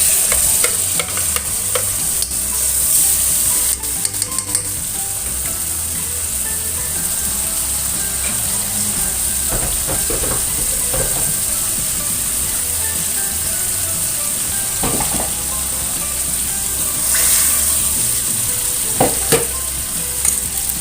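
A blended spice paste fries in a pan with a steady, loud sizzle, while a spoon stirs and scrapes at irregular intervals close by.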